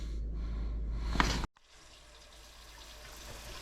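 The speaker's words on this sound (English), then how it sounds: "The water runs." Water gushes from a newly plumbed kitchen faucet into a sink, a close, steady rush that cuts off abruptly partway through, leaving a quieter residual trickle and room noise.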